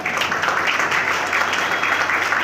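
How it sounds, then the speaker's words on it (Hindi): An audience at a ceremony honouring a guest applauds, a dense steady patter of many hands clapping at moderate distance, continuous from start to finish with no voices standing out. "मैं चाहूँगा सबका ताली बजा के अपना अभिनंदन करें"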